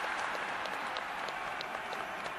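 Rugby players applauding on the pitch during a Division 5 cup final at the Principality Stadium, a dense, even patter of clapping heard at a distance without a break.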